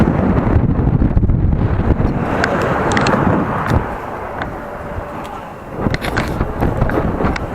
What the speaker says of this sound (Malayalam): കാറ്റുണ്ട്, നല്ല കാറ്റാണ് കേട്ടോ.